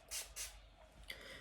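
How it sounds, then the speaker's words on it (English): Primer spray misted onto a makeup brush indoors, two quick airy hissing bursts in close succession, then a fainter third spritz, close and soft. "Spray this with my primer spray."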